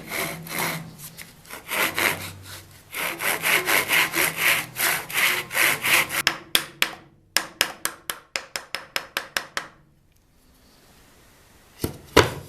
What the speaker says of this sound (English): I can now chop off the corners with a saw and a chisel